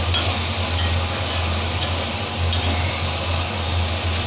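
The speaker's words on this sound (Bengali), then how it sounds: "চিকেনটাকেও ভাজা ভাজা করে নিয়েছি। আর এখানে দেখো কিছু মশলা অ্যাড করেছি আমি।" Chicken pieces fry with spices in a pan while being stirred, giving a steady, close sizzle with faint scraping throughout.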